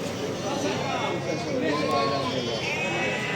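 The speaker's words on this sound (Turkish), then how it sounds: "Bunlar da keçiler." Goats bleating at a livestock market, several wavering calls rising over a dense background of crowd chatter and shuffling animals, with people talking throughout.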